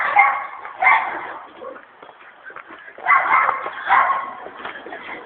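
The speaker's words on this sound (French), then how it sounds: "Ils sont adorables les petits chiens, mais qu'est-ce qu'ils aboient?" Small dogs bark in yapping bursts, two clusters of sharp barks separated by quieter whimpering, fairly close.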